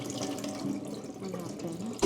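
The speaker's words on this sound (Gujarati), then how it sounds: "બે પાણીથી ધોઈ નાખાતું સાબુદાણા." Sago pearls being washed in water in a kitchen, a soft continuous running and sloshing of water, close and fairly quiet, ending with a brief louder splash.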